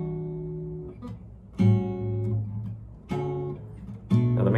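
An acoustic guitar strums a chord progression resembling a song, with three or four clearly separated chord attacks ringing out alone at close range and moderate loudness.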